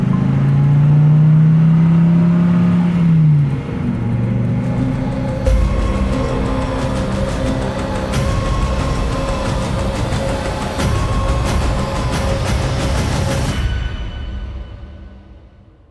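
A car starts up and drives off in a hurry, its engine rumbling and revving steadily and loud and close for over ten seconds before fading at the end, with a low hum at the start.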